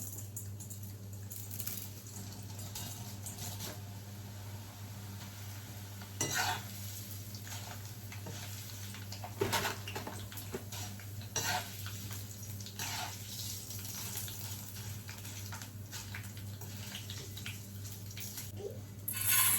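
Suji vermicelli noodles stirred and fried in a pan: soft scraping stirs and clinks repeat irregularly over a low steady hum, fairly quiet and close, with no talking.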